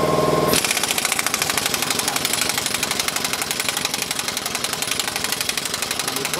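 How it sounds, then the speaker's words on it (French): A rapid mechanical rattle, likely an impact or ratchet wrench on a 17 mm bolt, takes out the bolts under the control arm of a 2007 VW Golf 5 Plus 1.9 TDI. The buzzing hammering is loud, close and continuous, with no talking. "à l'aide du 17, j'enlève les 3 vis sous le triangle"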